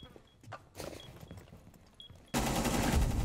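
Gunfire in a video game gunfight: scattered faint shots and clattering footsteps at a distance, then a sudden loud, dense burst of rapid fire that continues to the end.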